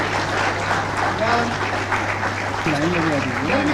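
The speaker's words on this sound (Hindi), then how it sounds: "सामुदायिक स्वास्थ्य पदाधिकारियों को तालियां होती रहेंगी।" Steady crowd applause for community health officers at an appointment-letter ceremony in Jharkhand, continuous clapping running beneath someone speaking throughout.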